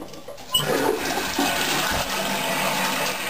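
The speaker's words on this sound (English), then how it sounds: "this is small flush, this is big flush" A Japanese toilet's big flush starts abruptly and rushes loudly with water for several seconds, close up, with no talking.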